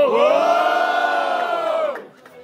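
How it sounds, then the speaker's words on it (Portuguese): Loud, sustained crowd cheering and shouting at a freestyle rap battle fills the air, then drops off abruptly near the end. "Quem achou melhor as rimas de Mineiro, faça barulho"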